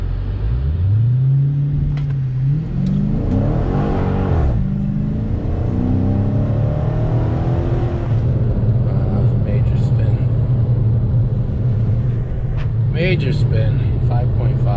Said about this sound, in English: I'm gonna do 0-60 here and see what I get.